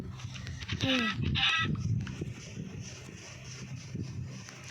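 A few quick clucks from a Minecraft chicken near the start over a low background hum, then fainter ambient noise.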